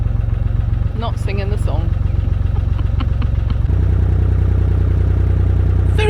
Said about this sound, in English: Ooh, slowly chugging along.